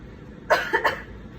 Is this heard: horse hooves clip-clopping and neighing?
no